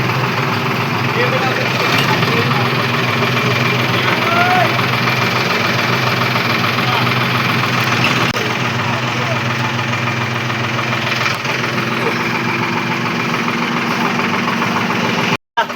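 Tractor engine idles close by at a steady, throbbing diesel rhythm with a faint knock. The sound runs unbroken for about fifteen seconds, with voices over it.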